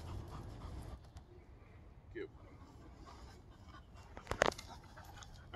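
A dog pants after a ground retrieve training drill, quick soft breaths under low background noise, with a brief whimper-like sound and a short louder burst near the end.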